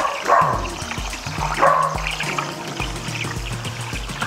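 A small dog barks in short repeated yips in a home kitchen while carnitas cook, with splashing and pouring liquid sounds nearby and no voices.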